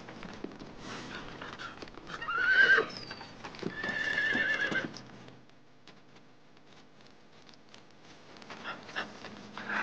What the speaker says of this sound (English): Why is the horse acting like that?